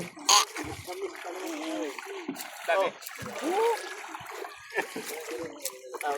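Water splashing as children bathe in Quezon Province, with irregular splashes and sloshing bursts scattered through the passage, heard fairly close amid chatter and voices.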